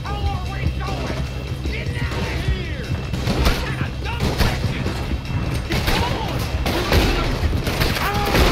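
Red Dead Redemption 2 gunfight, with rapid loud gunshots and impacts cracking in dense overlapping bursts under excited talk from players.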